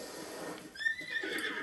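Horse neighing in the video game The Legend of Zelda: Breath of the Wild, a single close whinny with a quivering, rising-and-falling cry over faint ambient background.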